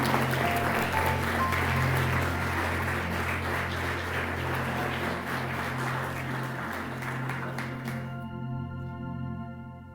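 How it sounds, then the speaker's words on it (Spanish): A church congregation applauds at an evening service, a full, close wash of many hands clapping continuously for about eight seconds before cutting off abruptly to near silence. "Le brindamos un fuerte aplauso a nuestro Señor"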